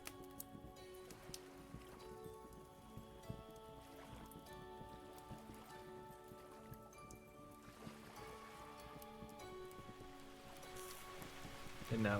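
Rain falls in the game Vintage Story, a soft, faint, steady patter that runs beneath quiet background music.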